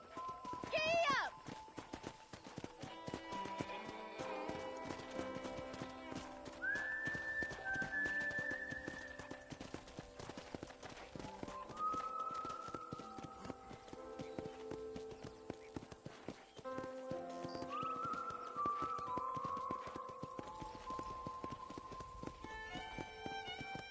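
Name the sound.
horse hooves clip-clopping in Red Dead video game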